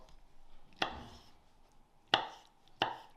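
Three sharp knife chops on a cutting board while preparing pizza toppings, spaced unevenly, close and crisp against a quiet background.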